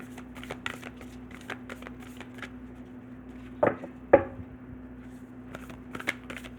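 Tarot cards are shuffled by hand in soft, irregular riffles and taps close by, with a couple of sharper slaps partway through over a faint steady hum and no talking.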